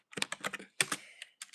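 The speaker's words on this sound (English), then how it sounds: "Typing in all caps." Rapid bursts of keystrokes on a computer keyboard, typed in all caps, come in quick clattering runs separated by brief pauses, close and clear with no talk.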